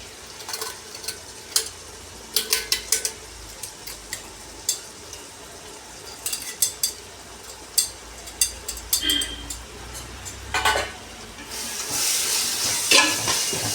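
Ground onion paste is sautéed in a pan with ginger and garlic for dum biryani, giving intermittent sizzling bursts and stirring scrapes, then a louder steady hiss toward the end.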